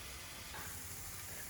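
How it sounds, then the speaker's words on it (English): Pieces of meat searing in a hot pan give a steady, close, faint hiss and sizzle that runs without a break. "I sear each piece carefully, flipping them one by one. I listen to the sizzle."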